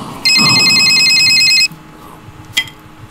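An electronic telephone in a video game rings once in a rapid warbling trill, loud and close, followed by quiet room tone and a brief click.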